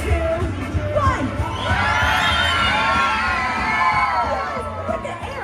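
A large crowd of children and adults at Disneyland screams and cheers together on a countdown cue for Stitch, a loud sustained roar of high shrieking voices swelling and holding for several seconds before tapering off.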